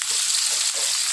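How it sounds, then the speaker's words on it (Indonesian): Sliced shallots and garlic sautéing in hot oil, a bright, steady crackling sizzle throughout the brief moment, close and loud with no voices. "Ini tumis irisan dari bawang merah dan bawang putih."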